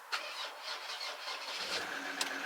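A custom truck's engine cranking and catching after sitting unused for two months, a short starter whir rising into a low running rumble, close and steady.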